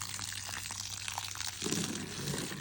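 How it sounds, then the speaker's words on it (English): Water streams onto plants in a raised garden bed, a continuous soft splashing and pattering that grows fuller and heavier about halfway through, with no voices. "It may take a little bit to get them all watered in."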